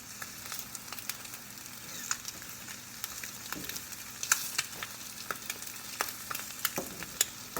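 Eggs fry in a pan on the stove with a soft, crackling sizzle and sharp intermittent pops, heard close and fairly quiet while a person speaks briefly over it.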